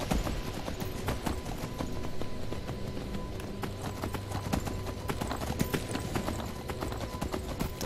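Rapid, steady clip-clop of a horse's galloping hooves in Skyrim, close and continuous, over a layer of ambient game background sound with no talking.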